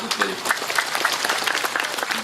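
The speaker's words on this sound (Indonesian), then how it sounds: "Tepuk tangan untuk Pak" Audience at an Indonesian religious gathering clapping in a dense, even burst, with some voices faintly mixed into the applause.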